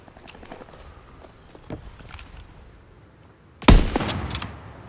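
Gunfire in the World War II shooter Call of Duty: WW2: scattered distant pops and footsteps, then one sharp, loud close shot followed by ringing debris.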